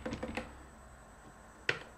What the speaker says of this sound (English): So here I'm typing the command Python.